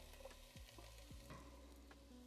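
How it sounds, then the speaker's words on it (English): Onion and garlic fry in olive oil in a pot, giving a quiet, steady sizzle broken by a few short scraping stirs. "I'm just gonna fry these onion and garlic off just until they're translucent"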